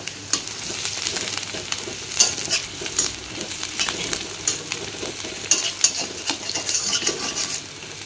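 Onions fry in a pan while puffed rice is stirred through them, a continuous close sizzle overlaid by frequent quick scrapes and clinks of a metal utensil against the pan, with no talking.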